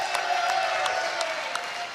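A packed crowd at a live Seminole football coaches show at Bowdens in College Town claps steadily, a dense broadband patter with scattered sharper claps and a faint tonal note running under it.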